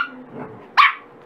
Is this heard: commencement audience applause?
no